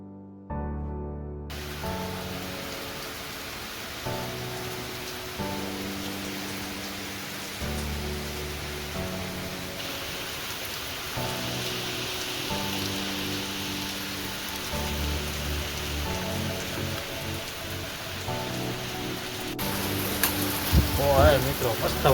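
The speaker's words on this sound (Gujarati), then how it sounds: "મસ્ત વરસાદ આવે છે બાકી એક નંબર" Steady rain falls outdoors in a village market, a continuous broadband hiss that runs the whole way through under music and occasional talk.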